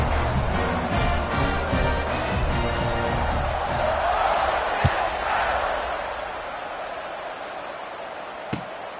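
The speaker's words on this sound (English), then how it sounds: "They're set to kick it off, and this crowd now ready to get behind them." A football stadium crowd roars steadily through a college game between Oregon and Ole Miss as the teams line up for the kickoff, a dense continuous wall of cheering with a couple of sharp thuds standing out near the end.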